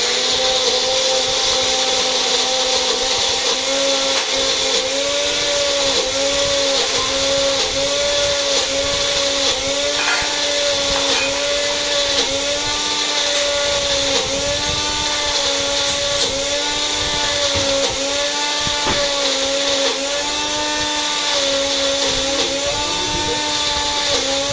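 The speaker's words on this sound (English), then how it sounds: "We've mixed everything in our blender, okay, and we're going to start it now" A blender whirs through ingredients, working them into a thick dark paste, a loud sustained motor drone whose pitch wavers and dips repeatedly as the mixture tightens, running close and steady for over twenty seconds.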